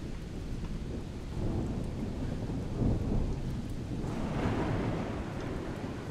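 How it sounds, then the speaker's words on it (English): Rain pours steadily in the video game The Solus Project while low rumbles of thunder roll and swell through the middle, a stormy wash of sound without speech. "Better not be another one of those thunderstorms or anything."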